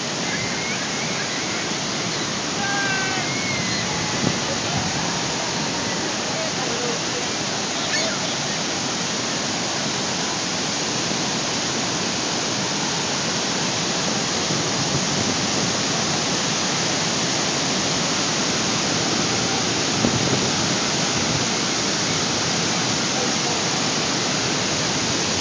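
A waterfall roars in a dense, unbroken rush of water, loud and constant throughout, with a few faint voices barely audible beneath it.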